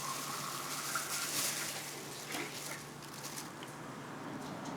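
Water runs steadily into a container holding eggs during salted egg preparation, a continuous close splashing gush lasting the whole stretch with no talk over it.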